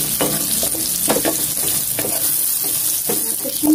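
Garlic sautés in a hot pan, a continuous close sizzle broken by scraping stirs and occasional louder bursts as the pieces are moved around.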